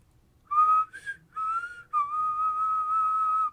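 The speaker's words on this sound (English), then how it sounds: "I whistle rather manly." A man whistles a short tune alone and up close, clear pure tones in a few brief phrases that end in one long held note.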